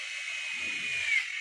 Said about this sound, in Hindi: इसमें ड्रिलिंग किया जा रहा है